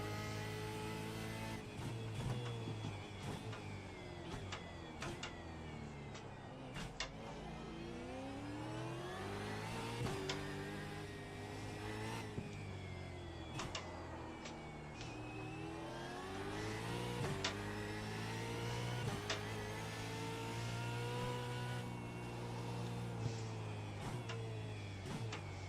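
A race car engine on a street course holds a loud, continuous drone whose pitch swells and falls as it revs through the gears, with no talk over it.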